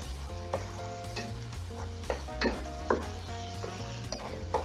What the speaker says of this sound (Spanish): está pochando la cebolla también a fuego fuerte, con el calamar.